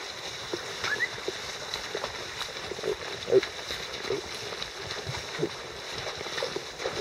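Horses on a western trail ride wade through a creek, with soft, scattered splashing and water movement beneath an outdoor background while someone talks.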